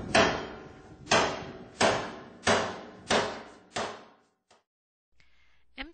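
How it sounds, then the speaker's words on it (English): Hammers and tools beating empty metal drums into sculptures in a Haitian artisans' village: six loud, evenly spaced metallic strikes, each ringing out and decaying, followed by a few faint clicks and quiet. "the sound of hammers and tools resonates from behind almost every home"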